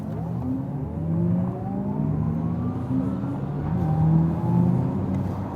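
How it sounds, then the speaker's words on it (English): An Audi e-tron GT accelerates hard under electric launch control, its motor whine climbing steadily in pitch against a low rolling road rumble, heard from inside the cabin. "let's put this electric launch control and put it to the real speed"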